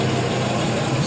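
A stock 4.8L LS V8 engine running steadily, a close, even low rumble held for about a second with no voices.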